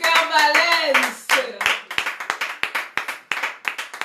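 A crowd claps at a Pentecost celebration honouring mothers, starting as a dense burst of applause mixed with cheering voices, then thinning into a dozen loud, separate, evenly spaced claps close by.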